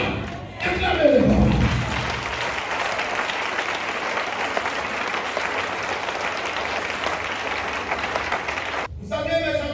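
A church congregation at a Sunday service breaks into sustained loud applause that swells quickly and holds steady for several seconds, with a voice briefly audible at the start and end.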